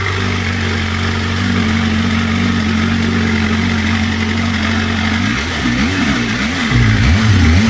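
A BMW M1000RR motorcycle with an aftermarket exhaust idles loud and close, then revs in several quick rising blips near the end.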